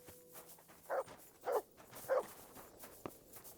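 A dog barks three times in an evenly spaced row, close and fairly loud, followed by a fainter short sound and light background noise.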